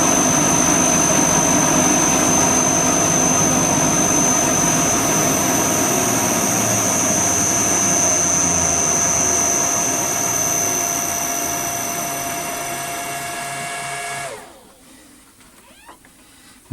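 A vintage wood lathe with a cast iron gear running as a loud, steady motor whine with a strong high tone and layered hum, fading slightly before spinning down abruptly near the end into quiet clicks.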